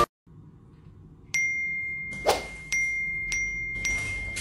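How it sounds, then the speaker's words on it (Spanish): Phone notification sound, a series of bright electronic chimes and pings repeating at irregular intervals, close and fairly loud, with a short thump among them. "Rubén, ese maldito rum rum rum de tu teléfono me tiene cansada."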